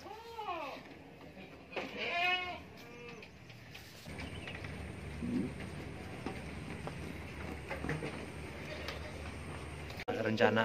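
Senduro goats bleat in a farm pen, a few close wavering calls in the first few seconds, followed by a steady background hum and indistinct noise with a sudden louder burst at the end.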